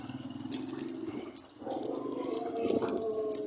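A dog vocalizes close by amid a busy outdoor scene, with harmonic whimpering or barking-like tones under a steady background, brief jingling highs, and people talking nearby.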